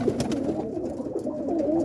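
Boston whipping roller pigeons coo softly in a loft, low throaty murmurs layered over a steady background rumble.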